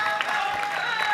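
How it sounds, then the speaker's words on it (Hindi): An elderly audience claps at an outdoor stage show on a Ganges riverbank, a brief burst of mixed applause with no voices over it. "ये जितने बुजुर्ग बैठे हैं ताली बजा रहे"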